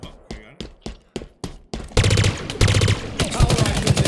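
Gunfire from the Halo Infinite video game in a Team Slayer match: several sharp single shots spaced apart, then dense rapid automatic bursts, loud and close, with faint game voices mixed in.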